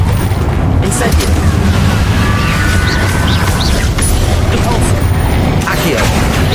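An Incendio fire spell cast in Hogwarts Legacy, a dense roaring, booming burst that fills the whole stretch, loud and close, with a voice speaking over it.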